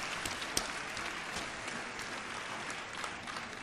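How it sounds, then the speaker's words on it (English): Crowd applause for the 2014 All-CIF swim and dive team at a spring All-CIF sports awards show, a steady wash of clapping hands that holds evenly for a few seconds, with a few sharper claps standing out near the start. "How about a round of applause for the 2014 All-CIF Swim and Dive team?"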